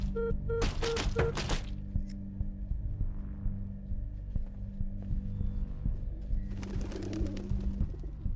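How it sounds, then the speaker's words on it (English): Birds coo softly in the video game Observer, with repeated dove-like calls near the start and again toward the end over a constant low ambient drone. "There even is some birds here."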